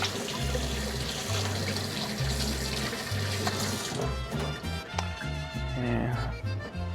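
Tap water runs into a sink while a sharpened kitchen knife is rinsed, a steady splashing stream that shifts in tone partway through as the blade moves under it.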